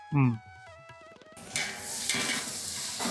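About a kilo of onions frying in a pan until golden for a mutton intestine curry. A brief voice comes first, then a close, steady sizzle with soft stirring scrapes.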